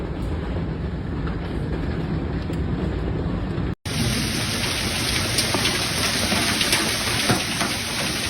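Heavy rain pours down during a severe thunderstorm with hail and strong winds near Winnipeg, a dense steady hiss that cuts out for an instant before resuming even louder and brighter, with no voices.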